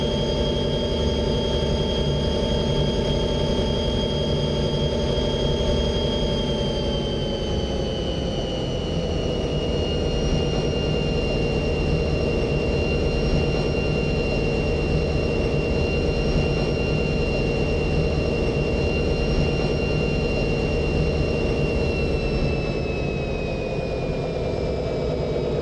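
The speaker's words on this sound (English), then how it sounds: "Up a little bit of a climb here, so throttling up so that we can keep accelerating." An F40PH diesel locomotive engine throttles up on a grade over Donner Pass, a loud, steady close-up drone with sustained whining harmonic tones that shift slightly in pitch partway through and hold without pause.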